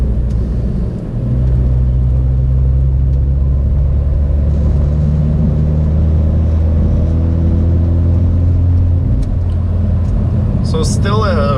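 Steady, loud low exhaust drone from a car accelerating from 60 to 80 at half throttle in fourth gear, its droning tones slowly rising in pitch as the engine pulls.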